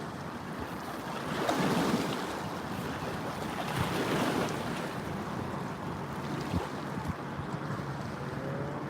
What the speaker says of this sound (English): Can y'all hear the waves coming in?